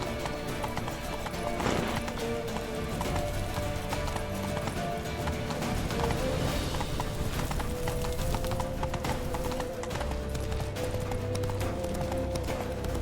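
Horse hooves clip-clopping at a gallop in The Witcher 3, a steady rapid rhythm over a busy game soundscape with occasional neighs and background music.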